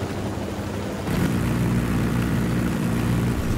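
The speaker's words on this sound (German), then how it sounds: "Oh, da ist ein Heli!" A helicopter in the Ghost Recon Wildlands video game drones steadily with a throbbing rotor and engine roar, growing louder and closer after the first second, with no talk.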